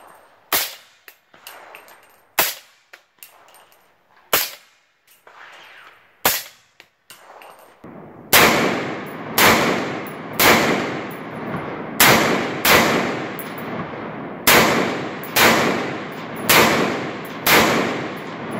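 AR-15 rifle shots ring out at steel targets, loud and close, with sharp cracks at first widely spaced, then a faster regular string of shots, each followed by a metallic clang and echo.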